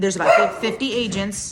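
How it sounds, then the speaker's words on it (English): A dog barks and yips a few times close by, partly under a man's speech, in short uneven bursts. "That's my dog."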